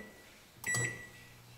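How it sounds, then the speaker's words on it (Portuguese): A microwave oven starts on a home backup power station, giving a brief clatter of switching and a short tone, then a low steady hum that carries on alone. "Funcionando, micro-ondas."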